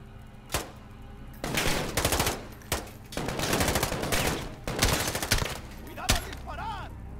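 Gunfire in Call of Duty: Modern Warfare comes as rapid automatic bursts and single sharp shots, loud and close, separated by short gaps, with a voice speaking between them.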